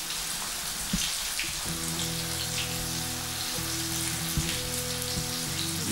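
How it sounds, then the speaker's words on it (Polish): Continuous crackling sizzle of breaded oyster mushrooms frying in a pan, close by, with a steady low electrical hum running underneath. "smażymy na 2 strony"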